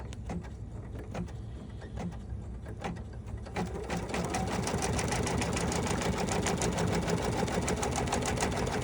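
Embroidery machine stitching satin stitches on a hat and ear holder design, a rapid, even mechanical chatter that starts lighter and then settles into a louder, continuous rhythmic whir.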